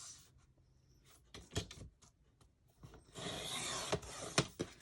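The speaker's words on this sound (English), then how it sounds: "I will just grab my trimmer and go ahead and trim this" A handheld trimmer works the edge of a small wooden craft house. Quiet, intermittent scraping strokes come close up, then build to a denser rasping stretch near the end.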